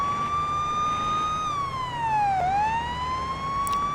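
Police car siren in a police simulator video game, a clear wailing tone that holds steady, dips and sweeps back up over a low engine hum, loud and continuous with no talking.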